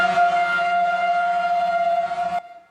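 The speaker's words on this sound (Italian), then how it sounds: "I clacson suonano come una sirena di speranza." Car horns blare as water tankers roll into drought-stricken Ravanusa, Sicily. One loud, sustained, siren-like tone holds steady for about two seconds, then cuts off abruptly.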